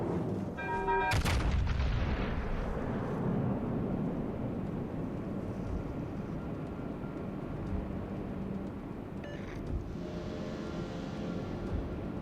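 Main guns of the battleship HMS Conqueror in World of Warships Legends fire a salvo: a sharp booming blast near the start, then a long rumbling roll of naval gunfire and a softer report near the end.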